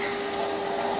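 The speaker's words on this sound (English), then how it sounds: "But I just go right inside of this thing and I vacuum all around the inside." A vacuum cleaner nozzle works around the inside of the dust bin from an iRobot Roomba 960, giving a steady, loud, close-up whooshing hiss. No voices.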